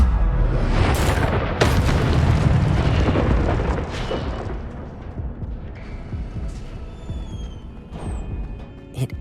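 Incendio fire spell cast in Hogwarts Legacy, a loud booming burst of flame with roaring, crackling rumble that slowly fades, followed by lighter crackles and faint game ambience, no talking.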